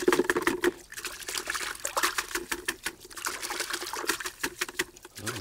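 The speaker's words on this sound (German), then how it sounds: "Immer schön an den Rand kloppen hier, wieder ins Wasser." Bonsai root ball knocked repeatedly against a container rim and dipped in water to loosen the old substrate, giving a fast run of close taps and sloshing splashes with no talk.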